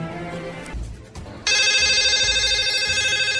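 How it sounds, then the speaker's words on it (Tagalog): A telephone in a drama scene rings with a bright electronic ringtone that switches on abruptly partway through and holds steady and loud after some low muffled sounds. "Nagaring ang telepono."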